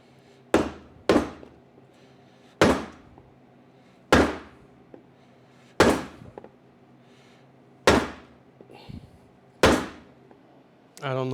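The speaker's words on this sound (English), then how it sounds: "with the other hammer I'm going to tap it down to" A series of eight sharp, resonant rubber-hammer taps driving a shaft onto a bearing during transmission assembly, spaced a second or two apart, close and distinct with short ringing decays.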